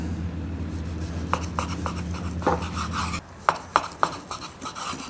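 A knife slices thin pieces from a cooked steak on a board, giving a series of short, close scraping cuts that become sharper and more distinct toward the end.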